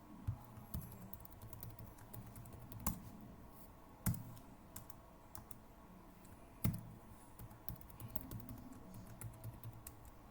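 Keys clack on a computer keyboard as a password is typed in, a quiet irregular patter with a few sharper, louder strokes spread over ten seconds and no talk.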